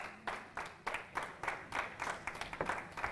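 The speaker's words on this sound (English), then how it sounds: "Come on, let's give the Lord a hand clap of praise." A church congregation clapping hands in praise, a steady rhythmic beat of many hands, fairly even and moderately distant.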